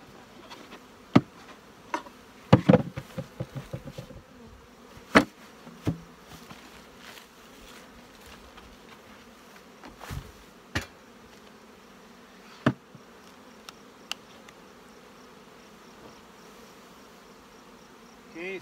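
Honeybees buzz softly and steadily around an open hive during a hive split, with scattered sharp knocks and clicks of handling boxes and the inner cover, no voices.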